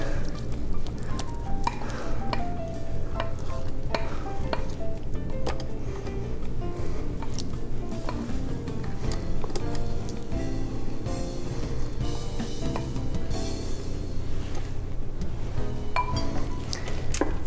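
A chocolate mousse cake batter is stirred as melted chocolate and gelatin are folded in, giving a steady, close run of scraping and soft clinking strokes of utensil against bowl, continuous and fairly loud with no talk.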